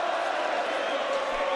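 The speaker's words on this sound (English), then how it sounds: "Listen to this crowd. Just listen." A boxing arena crowd roars without a break during the Anthony Crolla vs Ismael Barroso fight. The dense, steady wall of cheering and shouting holds at an even level from start to finish.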